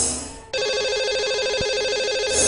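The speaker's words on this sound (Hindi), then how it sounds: "लगाते हैं सबसे पहले लकी कॉलर को नंबर।" A telephone rings steadily on a TV call-in show as a lucky caller is dialed, a bright electronic ring that starts abruptly after a brief lead-in and continues unbroken, loud and close.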